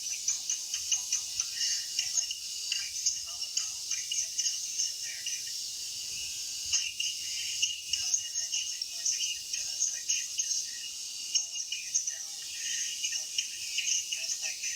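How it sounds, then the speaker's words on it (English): Cicadas buzzing in a steady high-pitched drone with a pulsing, ticking rhythm, moderately distant, with soft low sounds underneath. "These cicadas are..."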